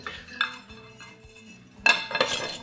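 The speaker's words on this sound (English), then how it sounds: "throw the spoon in the sink" Metal spoon tossed into a kitchen sink while making street tacos, giving a sudden bright clatter and a few ringing clinks near the end after quieter kitchen handling.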